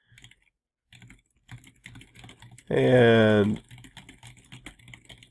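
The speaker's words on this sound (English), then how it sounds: "From here, I can start typing immediately." Computer keyboard typing in the Emacs editor on Linux, a light scatter of key clicks running through most of the span with a short loud voiced burst in the middle.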